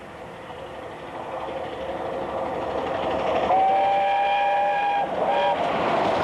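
A steam train runs just south of Stafford on the Wolverhampton line, with a loud, steady rumble of rolling stock building in volume and a sustained whistle sounding near the end.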